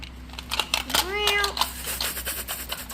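A cat meows in a video game set in a shopping mall, a single rising-falling call near the middle with higher overtones, surrounded by busy game effects and clicks.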